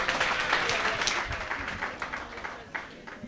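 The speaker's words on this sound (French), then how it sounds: "On l'applaudit quand même." An audience applauds at a televised business event, a dense, fairly close patter of clapping hands that carries steadily for a few seconds.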